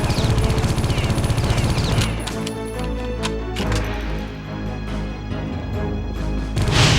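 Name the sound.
gunfire strafing an enemy in the video game Geist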